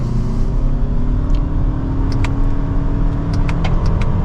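A 2025 Toyota Camry XSE accelerates hard in sport mode, held in second gear with the pedal floored, giving a loud, steady engine roar with rising rumble throughout, heard from inside the cabin without talk.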